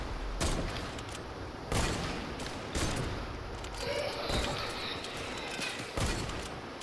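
Video game shootout with repeated gunfire: sharp, loud shots at regular intervals of roughly a second and a half, with a softer scattering of distant shots in between, all at steady volume, with no talk.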